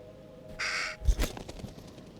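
A single harsh crow caw sounds in The Devil in Me, a short raspy burst over a quiet game ambience, followed by a soft low thud.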